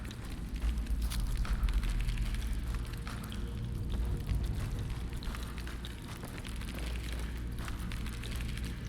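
Heavy rain falls in a video game, a loud, dense and steady hiss that fills the whole stretch without a break, with no voices over it.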